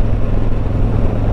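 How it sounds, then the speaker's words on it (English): A 2021 Harley-Davidson Tri Glide Ultra trike rumbles with a loud, steady low engine drone during a ride, heard up close and alone, with no talk. "Harley-Davidson Tri Glide"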